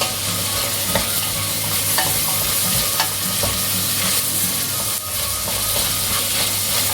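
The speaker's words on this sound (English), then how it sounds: "And now I'm just stir frying." Peppers stir-fried in a pan for a bean stew give off a steady, close sizzle with stirring scrapes and clicks running throughout, and no voices.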